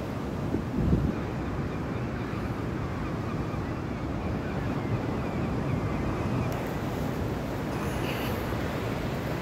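Steady roar of rough water and surf at New Brighton pier, Christchurch, with heavy wind buffeting the microphone, continuous throughout.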